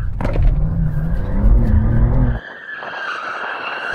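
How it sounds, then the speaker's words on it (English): A BMW M2 drifting with its tyres skidding gives a loud, close screech over the engine for a couple of seconds, then eases into a thinner squeal as the slide fades. "if there's one thing BMWs can do, it's drift"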